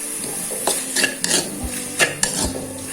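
Nasi goreng rice frying in a pan, with a steady sizzle running under repeated metal scrapes and clinks of a spoon stirring against the pan.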